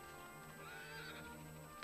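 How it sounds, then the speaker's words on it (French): A horse neighs in the Dragon Quest VIII video game, a loud whinny that rises and falls over a steady in-game music and ambience bed for about two seconds, with no speech. "C'est quoi ça? Un cheval?"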